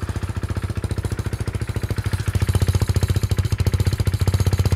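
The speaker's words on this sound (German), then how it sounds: "Was man da scheppern hört, ist übrigens der DB-Killer." A KTM Duke motorcycle idles with its exhaust dB killer rattling, a fast even metallic chatter riding on the engine's pulsing thump, close and growing slightly louder.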